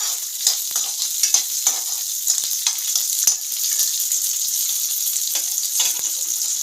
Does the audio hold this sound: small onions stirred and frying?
yes